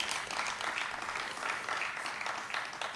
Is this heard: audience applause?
yes